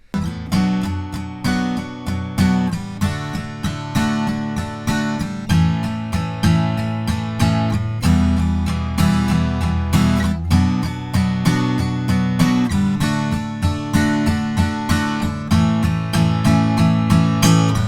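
An acoustic guitar plays the bridge of a song with no capo, strummed in a steady rhythmic pattern through the chord changes, close and clear, with no talking.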